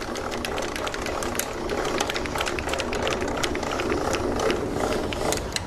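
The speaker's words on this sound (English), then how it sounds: "So when you're winding this down, very simple on the winch." A vehicle-mounted winch winds its cable down with a steady mechanical whir broken by rapid ratcheting clicks, close and continuous throughout, with no speech.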